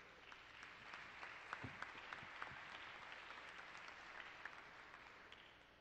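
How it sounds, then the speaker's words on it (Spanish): An audience applauds the speakers of a panel at a forum, a steady, fairly distant patter of many hands clapping throughout. "les damos un aplauso a todos ellos"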